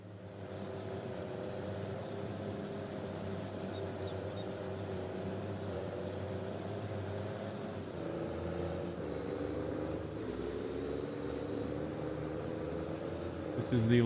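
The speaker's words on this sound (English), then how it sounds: "If we zoom way out, we can hear that truck." A truck engine drones steadily during harvest in Farming Simulator, a continuous low rumble at moderate distance with a faint high whine, while a person talks over it.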